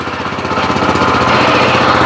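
A walk-behind tractor engine runs in first gear, loud and close, with a steady rapid chugging beat and a harsh mechanical clatter that holds constant throughout, with no voices.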